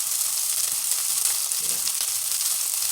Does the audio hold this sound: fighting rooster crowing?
no